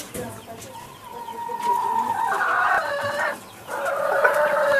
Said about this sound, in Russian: Сидит курица.